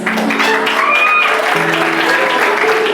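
An audience at a Hyderabad film festival awards ceremony claps loudly and continuously for a winning film, the applause dense and close, with a few voices and cheers mixed in.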